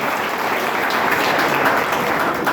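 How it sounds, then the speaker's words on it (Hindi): Steady, dense applause from an audience welcoming Om Prakash Mathur at a BJP district gathering, a continuous clapping wash that holds evenly for the whole stretch with no voices over it. "उनका जोरदार तालियों से स्वागत करें।"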